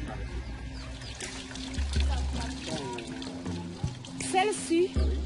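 Muddy water is poured in a village with a makeshift water supply, a soft trickle under a talking voice, with chickens clucking nearby.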